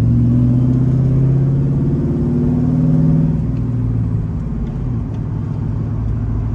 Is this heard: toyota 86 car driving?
yes